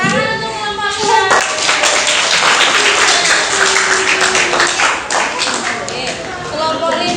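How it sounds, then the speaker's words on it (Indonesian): A classroom of students claps for a group that has just finished presenting, a dense burst of hand clapping with voices mixed in over the applause. "Tepuk tangan untuk kelompok 5"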